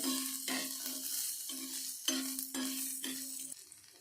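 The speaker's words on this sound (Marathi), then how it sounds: "इथे कांदा टाकून घ्यायचा आहे आणि हा कांदा आपल्याला इथे भाजून घ्यायचा नाही फक्त गरम करून घ्यायचा आहे" Onion warms over a low flame in a pan with roasted spices for sambar, a faint sizzle broken by about seven regular stirring strokes, each leaving a short ringing tone from the pan, fading toward the end.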